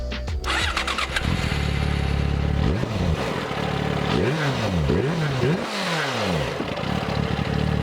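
A Yamaha FZ6 motorcycle engine rumbles close by through twin under-seat exhaust pipes, revving up and down in several quick blips before settling back to a throaty idle.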